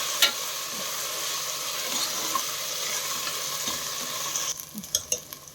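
Spices sautéing on a low flame in oil for chicken biryani, a steady soft sizzle with stirring throughout and a few sharper clinks of a spoon near the end.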